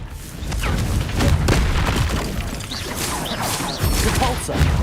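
Confringo spell blasts in the Hogwarts Legacy video game: repeated booming, crashing impacts and whooshes over a steady rumble, loud and close.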